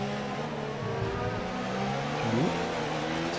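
Race cars in a racing video game brake hard into a corner, their engine notes falling and shifting as several cars roar together in a dense, steady drone.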